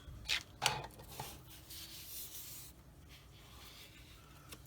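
Paint masking for a 1/48 Airfix Spitfire Mk XII wing is cut out by hand, starting with two sharp close scratchy cuts and followed by softer continuous rubbing and scoring strokes.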